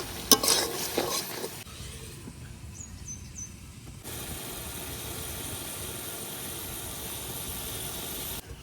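Chapa shutki, a pressed dried fish, stir-fried with spices in a pan, giving a steady close-up sizzle with rough scraping from stirring and no voices.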